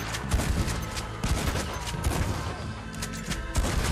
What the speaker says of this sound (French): J'adore ce fusil à pompe.